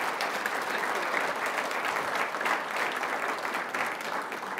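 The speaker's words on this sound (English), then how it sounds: "let's give Deborah a round of applause as she comes back up" A banquet audience at a Fort Hays State alumni event breaks into a sustained round of applause, dense and steady throughout with no pause, filling the room at even loudness.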